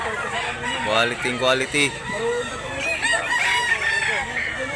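Roosters crow and chickens cluck at a poultry market in Mantalungon, Cebu, several calls overlapping close by, with people talking throughout.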